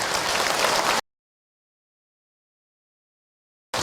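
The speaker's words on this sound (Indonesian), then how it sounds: "boleh tepuk tangan untuk Ahilman, ibu." An audience at an Indonesian religious talk by Ustaz Hilman gives him a round of applause. A loud burst of clapping lasts about a second, then cuts to total silence before a brief return at the very end.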